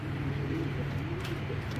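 Giribaz high-flyer pigeons coo softly in low repeated calls over a steady background hum, close by and fairly quiet.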